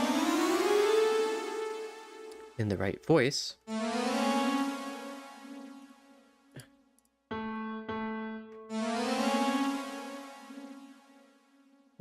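A synthesizer pitch glide moving in audible stepped jumps rather than a smooth portamento, bright buzzy tones sweeping in repeated phrases with brief breaks, while a voice speaks briefly between them.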